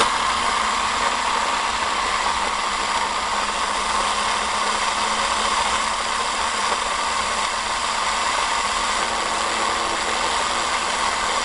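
An Orbo / Ben Thomas style pulse motor with a high-current coil runs steadily, giving a constant whirring hum with switching buzz that stays level throughout, close and fairly loud with no talk.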